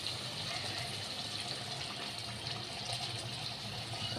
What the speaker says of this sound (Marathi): मी एवढं पाणी टाकणार आहे,